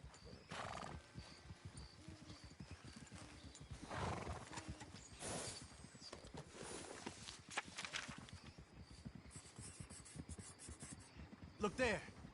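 In the Red Dead Redemption 2 video game, a horse and wagon approach on a track: faint hoof clip-clops and a nearby horse's whinny, with voices talking quietly over the scene.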